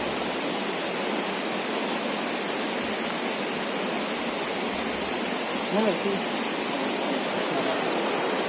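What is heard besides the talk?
waterfall on a mountain top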